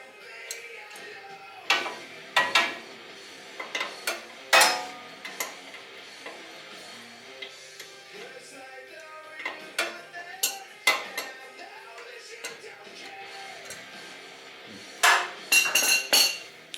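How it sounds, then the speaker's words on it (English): A crescent wrench at work on a timing chain tensioner of a Polaris RZR 1000, giving scattered, crisp metallic clinks and taps, close and isolated, with quiet pauses between the bursts. "I don't have a wrench big enough, so I am using a crescent wrench."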